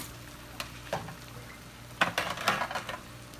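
Potatoes frying in a pan for a big breakfast, a steady low sizzle with a few scraping spatula stirs and clinks building toward the end, fairly quiet and close, with no talking.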